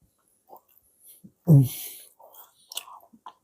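Someone takes a bite of a well-cooked slice of homemade pizza, then chews close to the mic in a few soft, moist bursts, with one louder crunchy bite near the middle and quiet breathing between.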